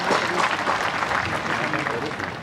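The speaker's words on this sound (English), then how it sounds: "give him a big round of applause to the Vice Chancellor" Audience applause for the Vice Chancellor at a university Sir Syed Day ceremony, a steady wash of many hands clapping that carries throughout without pause.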